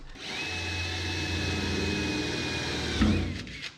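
A power drill whines steadily as it bores into metal, loud and close, ending with a brief catch and spin-down.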